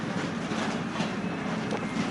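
A train rolls along steadily, a continuous rumble with faint clickety-clack from the wheels, heard from on or near the rail line at moderate level, with no talk.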